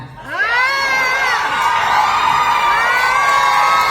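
A live audience at a comedy show in Australia bursts into loud, sustained cheering, whooping and shouting, a dense close wall of voices lasting throughout.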